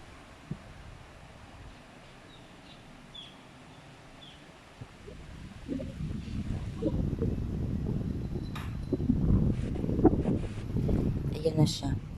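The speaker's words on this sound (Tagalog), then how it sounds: "Para marinig niyo kung gaano kalakas yung hangin." Strong early-morning wind gusts outdoors in a rising, rumbling roar that grows louder and rougher over time, with a voice speaking briefly over it.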